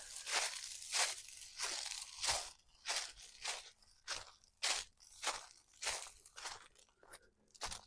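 Footsteps crunch through dry winter leaves on a state park campground trail in Tennessee, a steady walking rhythm of about a dozen loud, close, crackling steps.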